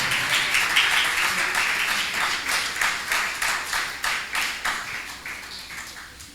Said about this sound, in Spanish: Alguien rinde palmas a Cristo en esa tarde.